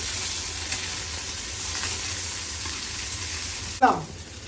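Onion, garlic and cumin sizzle steadily in hot oil while being stirred, a close, constant frying hiss with a sudden louder scrape and splash near the end.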